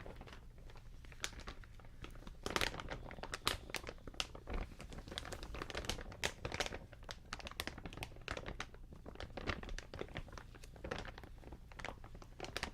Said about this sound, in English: Crinkling, crinkling, crinkling.